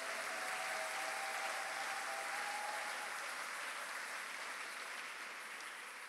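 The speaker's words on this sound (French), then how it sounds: "Est-ce qu'on peut lui donner une bonne offrande d'acclamation?" Sustained applause from a church congregation at a Sunday service, a steady dense wash of many hands clapping at even loudness throughout.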